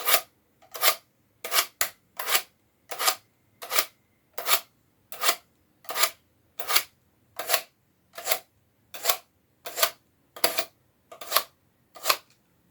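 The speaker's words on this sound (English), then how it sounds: "let me just sharpen my knife" A kitchen knife being sharpened with regular, evenly spaced strokes, about sixteen crisp rasping swipes in a steady rhythm, close and clear against a quiet background.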